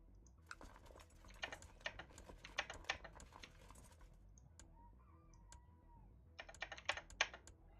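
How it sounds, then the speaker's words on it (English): Close computer keyboard typing during a Crusader Kings 2 strategy game session: dense bursts of rapid key clacks, a quiet gap in the middle, then another quick flurry of keystrokes. "You can hear the keyboard going as I'm like cycling through all the instructions for my guys."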